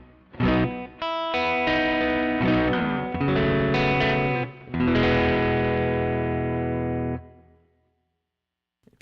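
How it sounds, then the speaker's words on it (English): Electric guitar chords ring out in several strums, with a lush plate reverb tail that lingers and fades after the last chord. "already set up to a plate sound. And I'm going to use this fader just to drive a little bit of the guitar into that reverb."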